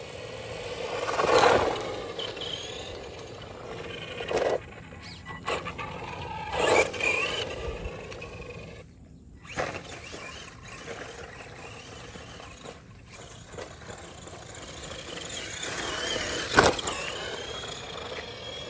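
A toy-grade RC car from Temu drives on tarmac, giving a whiny electric motor buzz with repeated surges and scraping tire noise, close and fairly loud throughout.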